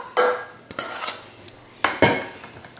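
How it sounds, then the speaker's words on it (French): Potato and carrot pieces are dropped into an earthenware tagine with a little olive oil, giving several sharp clattering knocks against the clay at uneven intervals, loud and close, with no voices. "Et je mets mes légumes dans mon tagine."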